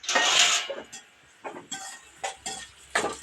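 Plates and dishes clink in a home kitchen while food is being fried, with a loud clatter at the start followed by several sharp, separate knocks and chinks spaced through the rest.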